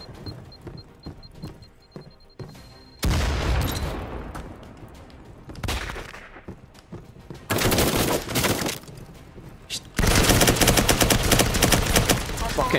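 Enemy blind-firing a gun in a video game shooter: several loud bursts of rapid gunfire, each lasting a second or two, separated by quieter gaps with faint game ambience and occasional talk.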